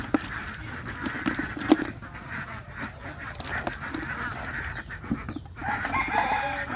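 Farm poultry, including ducks, call in a rural yard with a steady low background. Scattered quacks and clucks sound at moderate distance, with no clear speech.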